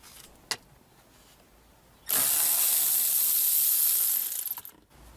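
A 10mm bolt being undone from an interior panel of a Toyota Sienna: a sharp click, then a loud, continuous ratcheting buzz lasting about two seconds before it tapers off, close by.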